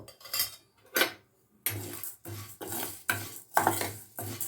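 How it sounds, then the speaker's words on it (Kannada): Spices being roasted in a little oil in a pan, heard as repeated close scraping strokes of a spoon against the metal, about eight rhythmic stirs with brief gaps, little sizzle. "ಈಗ ಈ ಮಸಾಲೆಗಳನ್ನೆಲ್ಲ ಬಾಂಡ್ಲಿಗೆ ಹಾಕಿ ಒಂದು ಸ್ಪೂನ್ ಎಣ್ಣೆ ಹಾಕಿಬಿಟ್ಟು ಚೆನ್ನಾಗಿ ಕೆಂಪಗಾಗೋ ಹಾಗೆ ಹುರ್ಕೊಳ್ಬೇಕು"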